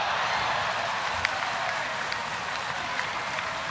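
Crowd applause at a chilly night baseball game at a ballpark, a steady wash of clapping and crowd noise throughout with a few sharper claps standing out, fairly distant and even.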